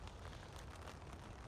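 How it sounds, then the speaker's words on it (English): Rain falling on a campsite during an all-day downpour, a faint, steady hiss of drops with no breaks and no voices. "it's been raining all day"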